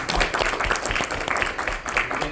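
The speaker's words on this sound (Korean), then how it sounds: "먼저 수원대학교 김국태 교수님 박수 부탁드리겠습니다." An audience at a Korean conference panel claps as a discussant is introduced, a brief burst of moderately loud, dense applause that stays fairly even from start to finish.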